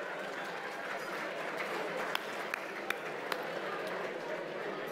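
Scattered applause from guests at a gala fills the room at a moderate, distant level, with a few sharper individual claps standing out against a soft, steady crowd murmur.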